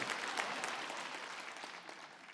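A church congregation claps during a sermon at a 2023 revival-style festival service: a steady, moderately quiet wash of many hands that fades gradually, with no voices over it.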